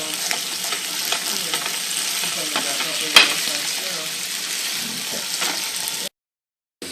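Potatoes and garlic frying in a pan, a steady close sizzle with light stirring and scraping throughout and one sharp clink midway, then cutting out abruptly near the end.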